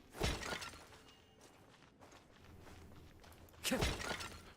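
Ceramic pots shattering in Genshin Impact, two sharp breaking crashes nearly four seconds apart, each with a short scattering of debris, over faint ambient game sound.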